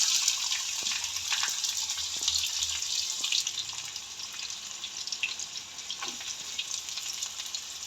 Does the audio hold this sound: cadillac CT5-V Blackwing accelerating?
no